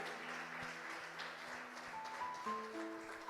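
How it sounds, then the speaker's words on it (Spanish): A church congregation applauds the Lord during an evening Spanish-language service, a steady wash of clapping throughout, with faint sustained organ or keyboard tones underneath. "Y le dan un fuerte aplauso al Señor"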